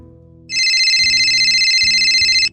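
An electronic phone ringtone trills loudly and steadily for about two seconds over faint low background sounds.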